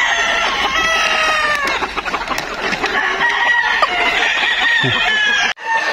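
Young gamecocks, stags, on a game farm crowing and clucking in a dense, busy chorus, with several birds calling over one another at close range, loud and continuous.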